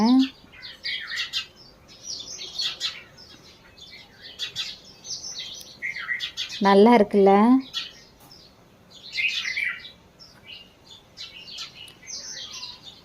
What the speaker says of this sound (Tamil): காலையிலேயே பாருங்கள் இந்த குருவி சத்தம் எவ்வளோ சூப்பராக இருக்குன்னு